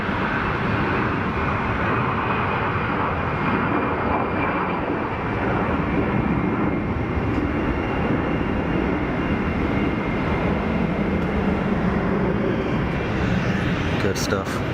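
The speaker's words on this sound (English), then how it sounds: "A320 hauling it." An Airbus A320 jet takes off at Geneva Airport, a loud, steady growling engine roar that holds throughout, broad and rumbling with a sustained low-end drone.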